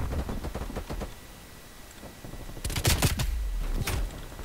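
OTS 9 submachine gun fire in Call of Duty Cold War: rapid clattering bursts, a quicker stretch early on, a sparse pause, then a louder, denser volley near the end.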